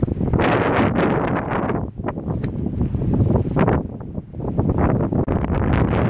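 Strong wind buffets the microphone in loud, continuous roaring gusts with brief dips, steady throughout, outdoors at a metal-detecting site of a WWII German tank battalion.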